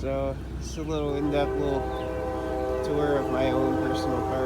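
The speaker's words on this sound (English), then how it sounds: "Sorry about the train." A train passes with its horn sounding in repeated blasts with bending tones, loud and nearby, while someone speaks over it.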